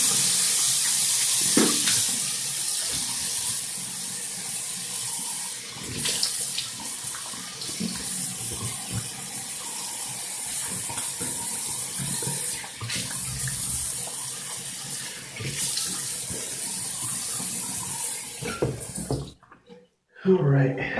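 Tap water runs steadily into a sink while someone rinses off aftershave, a continuous splashing rush broken by brief changes in the flow, cutting off near the end.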